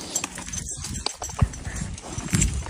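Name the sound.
horse hooves clip-clopping during a ride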